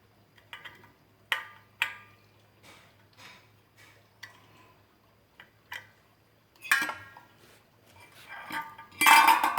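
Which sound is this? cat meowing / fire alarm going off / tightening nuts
tightening nuts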